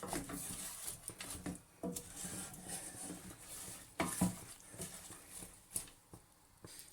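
Mutton with turmeric and salt is stirred and mixed by hand in a pot, a faint irregular rubbing and scraping with occasional soft knocks of the utensil, close and without voices.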